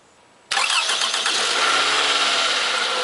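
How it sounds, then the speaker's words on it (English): A car engine starts after a battery replacement: a sudden loud crank catches almost at once and settles into a steady, close idle that runs on without a break. "Start the engine to test your connections"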